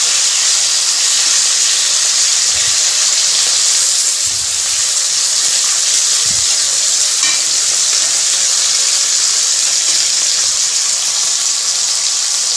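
Salted drumstick pieces fried with poppy seeds in a pan until reddish, producing a loud, continuous close sizzle and hiss broken by a few soft low knocks from stirring, with no talking.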